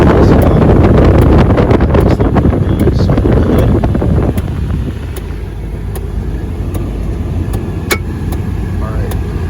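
A 2006 Ford Expedition's AC blows at full blast, set to max cold, as a loud, steady airy roar that drops somewhat midway and continues as a constant rush with faint clicks.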